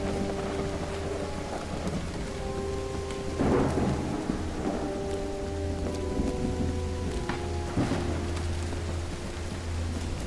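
Heavy steady rain pours at a mausoleum in the game Call of the Elder Gods, with rumbling thunder rolling through at intervals, a dense continuous wash with no talk.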